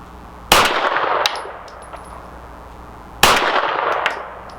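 Two 9mm shots from a Walther PDP Match Steel Frame pistol ring off steel targets, each a sharp loud crack followed by a lingering metallic ring, about three seconds apart.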